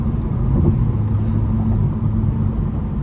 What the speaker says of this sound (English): The exhaust note gets a bit quieter.